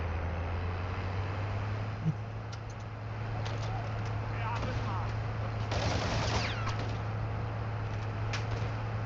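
Machine gun fire in a video game, with scattered bursts and single shots over a constant low engine-like hum and background noise, mostly moderate in loudness, and some brief chirping sounds.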